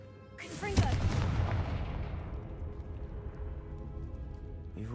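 A Confringo fire spell in the Hogwarts Legacy video game goes off with a sharp crack and then a loud booming blast that rolls out and slowly fades, with a low rumble lingering afterward.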